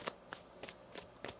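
Tarot cards being shuffled by hand in quick bursts, about five soft riffling snaps in a steady rhythm, close and quiet with no talking.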